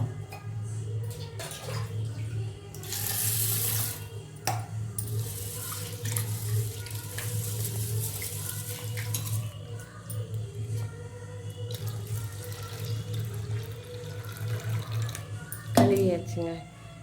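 Mung dal being washed in a bowl, water running and swishing steadily throughout, with a brief louder splash near the end; a steady low hum sits beneath and no one speaks.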